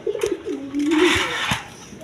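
A high-flying Giribaz pigeon gives a close, low, wavering coo that rises and falls in one drawn-out phrase, with faint background noise around it.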